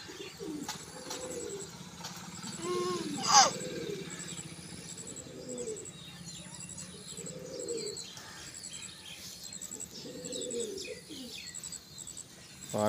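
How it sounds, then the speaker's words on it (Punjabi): A Makhi Cheena pigeon gives a series of soft, low, repeated coos at a moderate distance, with scattered faint chirps from other birds and one sharp click partway through. "ਮੱਖੀ ਚੀਨਾ ਕਬੂਤਰ"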